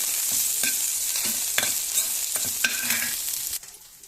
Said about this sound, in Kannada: ಚೆನ್ನಾಗಿ ಫ್ರೈ ಮಾಡಿಕೊಳ್ಳಿ ಹೀಗೆ ಒಂದು ಐದರಿಂದ ಹತ್ತು ನಿಮಿಷ ಚೆನ್ನಾಗಿ ಇರಿದುಕೊಳ್ಳಿ